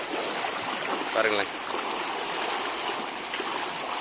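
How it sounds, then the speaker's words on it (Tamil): A water stream flows in Kerala with a continuous, moderately loud rushing wash, while someone speaks briefly over it partway through. "எல்லா இடத்துலையுமே இந்த தண்ணி போகிறது"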